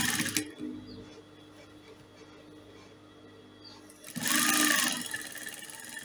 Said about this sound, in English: I'm just going to stitch it on the both sides.